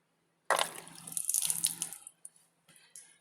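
Water gushes from the drain of a small 21-gallon water heater, a loud burst of splashing that tapers off after about a second and a half into scattered drips and trickles.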